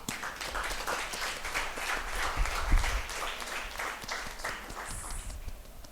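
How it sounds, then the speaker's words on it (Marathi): A church congregation claps during a Marathi sermon, a dense, steady round of applause lasting throughout with no voices over it. "आपण टाळ्या वाजवू त्यासाठी"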